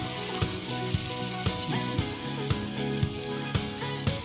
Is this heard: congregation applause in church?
no